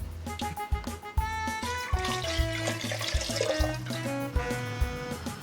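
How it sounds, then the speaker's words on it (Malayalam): Water poured into a cooking pot of Kerala-style beef mappas, a close, steady splashing and trickling pour that runs for several seconds with gurgling and bubbling. "വെള്ളം കൂടി നമ്മൾ ഇതിനകത്തേക്ക് ചേർത്ത് കൊടുക്കണം"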